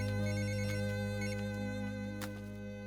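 A phone ringtone plays steadily, a repeating electronic melody heard faintly with no one speaking.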